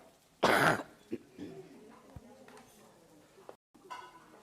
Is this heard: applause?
no